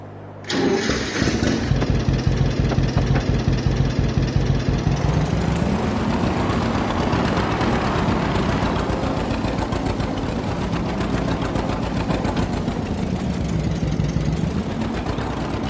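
A small shunting tractor engine in Farming Simulator 22 starts up and then idles with a steady, close mechanical hum and chug that runs alone through the whole stretch.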